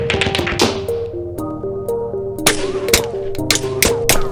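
Small biro pen nibs are cut so the pieces ping off, making a run of sharp clicks and snaps, close and crisp, over a steady tonal background.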